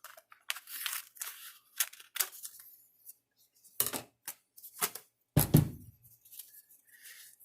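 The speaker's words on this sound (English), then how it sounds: "I can go ahead and cut this out" Scissors cutting out a vinyl sticker with its sticky mask, close sharp snips and crisp crinkles in irregular bursts separated by quiet pauses, with no voices.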